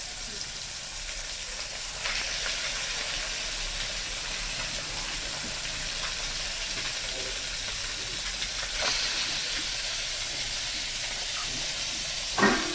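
Fish sizzles in hot oil in a wok in a village kitchen, a continuous moderate hiss and crackle with occasional louder spits near the end.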